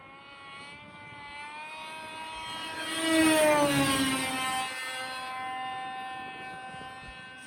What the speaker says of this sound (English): So the aircraft has went past us at about 35 meters per second.